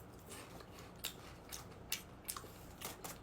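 Crunchy seaweed crispy chips are chewed up close, with sharp crisp crunches at irregular intervals over a quiet background, faint overall.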